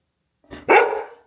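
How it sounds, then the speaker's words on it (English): A pet dog gives a single loud, gruff bark, close by and alone, with a short huff just before it. "Why is your bark so mean?"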